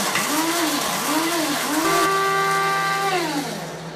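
A kitchen blender grinding coconut chips into coconut flour, its motor whining in repeated rising and falling sweeps before settling into a steady high-pitched hum that fades slightly at the end.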